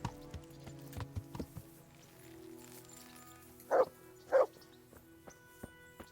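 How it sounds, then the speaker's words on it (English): A dog gives two short barks a moment apart in Kingdom Come Deliverance, heard over medieval game ambience with hoofbeat-like clopping and no talk. "I'm glad I have a dog"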